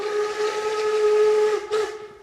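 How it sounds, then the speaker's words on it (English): A steam train arriving in snowy mountains sounds a loud, sustained whistle over hissing steam, then a short second blast before the sound fades. "The train is now arriving behind me,"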